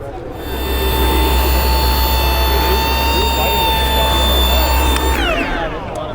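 A cordless battery-operated full-size DA polisher with 15 mm or 21 mm throw runs at a trade show, a loud steady whirring drone with high tonal whine that cuts off abruptly near the end, with a voice talking over it.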